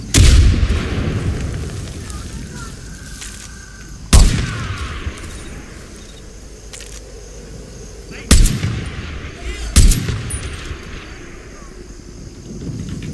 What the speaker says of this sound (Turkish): Bomba mı attı biri ya?